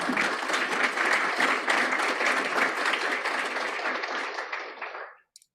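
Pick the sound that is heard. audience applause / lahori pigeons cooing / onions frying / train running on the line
audience applause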